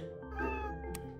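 A cat meows in a Roblox video game, a single drawn-out mewing cry, clear and up front, with a faint game tone underneath.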